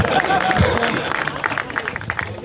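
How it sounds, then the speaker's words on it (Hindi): Crowd applause at a lucky draw event in Karachi, steady dense clapping and cheering throughout at close range, with a little voice noise mixed in. "तो शेख साहब के लिए भी भरपूर तालियां"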